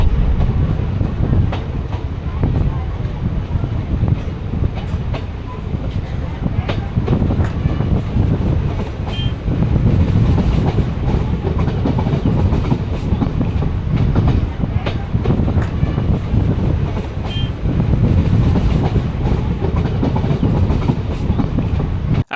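A train crossing the Rajasthan desert toward Pushkar, with a continuous loud rumble of carriages and a rhythmic clickety-clack of wheels on rails heard from inside the car, plus faint occasional background noise.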